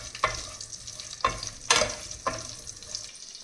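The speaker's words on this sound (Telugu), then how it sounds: "ఇందులోనే కొంచెం ఆవాలు, కొంచెం జీలకర్ర, పచ్చిమిర్చి అన్నీ కలిపి బాగా వేగనివ్వాలి" Mustard seeds, cumin and green chillies fry in hot oil for an amla pickle, with a steady low sizzle broken by three or four sharp bursts of crackling and stirring, close and fairly loud.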